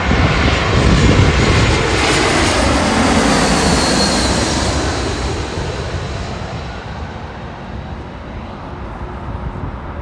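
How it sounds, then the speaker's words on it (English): An Airbus A321 airliner at Los Angeles International Airport roars loud and close with a broad jet engine rush that slowly fades as it passes, with no talk. "Airlines Airbus A321."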